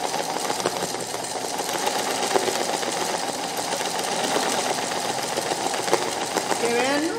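Home sewing machine running a straight stitch for embroidery, a loud continuous rapid mechanical whirring and needle clatter close up, unbroken throughout.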